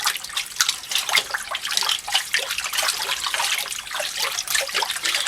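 Water runs and splashes over a Norton lapping stone being used for sharpening, a steady close trickling and sputtering that continues without voices.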